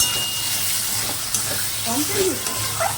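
Spice masala sizzling and frying in a little oil for a Sunday mutton curry, a steady close hiss with stirring scrapes and faint background voices.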